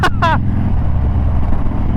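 A Lamborghini sports car's engine drones low and steady throughout, loud and close, with a brief shout over it near the start.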